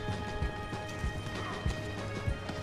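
Horses in a Wild West video game, faint hoof clip-clops in an irregular walking rhythm with a few sharper knocks over a steady low background hum.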